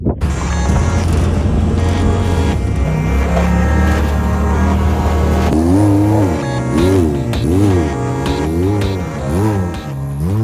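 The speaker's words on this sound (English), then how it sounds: "we're just driving through the rocks here" Off-road race car crawling through rocks during King of the Hammers pre-running, its engine droning loudly and steadily throughout, with rising and falling revs in the second half and no talking.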